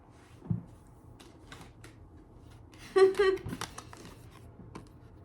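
Tarot cards being shuffled and drawn, with light card taps followed by a short burst of riffling flutter near the middle, and a voice speaking around it.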